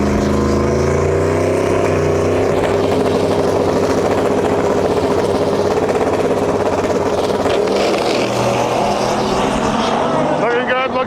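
Turbocharged LS V8 in a Datsun drag car roars loud and sustained as it accelerates hard down the drag strip, a steady rising engine drone filling the whole stretch before easing slightly at the end.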